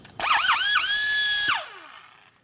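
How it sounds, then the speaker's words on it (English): Air die grinder, freshly oiled, for porting a 103ci Harley Dyna Twin Cam cylinder head: a sharp high whine spins up with a few wavering revs, holds steady for over a second, then winds down, close and loud. "First thing I do is lubricate up your grinders. 3 to 5 drops of oil in there."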